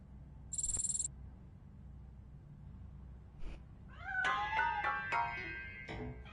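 A hidden cat meows inside a piano in Robocop Rogue City, several clear, rising meows in close succession after a brief chime, in a quiet room with no talk.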